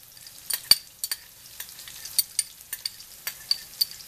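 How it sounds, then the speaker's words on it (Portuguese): Garlic is added to bacon and smoked sausage already frying in a pan, giving soft crackling sizzles with scattered sharper pops and stirring clicks, close and fairly quiet with no talk over it. "Agora nós vamos acrescentar o alho, ó. Vamos colocar todo o alho aqui,"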